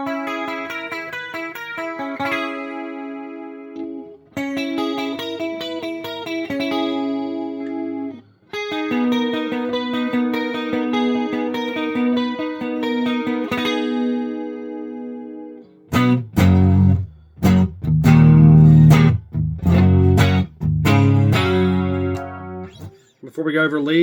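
An Aria Pro II LS600 Les Paul-style electric guitar with swapped DiMarzio pickups, played dry with no reverb or delay: ringing sustained chords and picked notes, then a burst of sharper, choppy strummed chords near the end.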